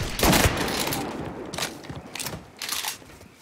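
Several gunshots ring out in short bursts in the crime game Mafia 3, loud and close, with a heavy blast at the start and more scattered shots after brief gaps, and no speech.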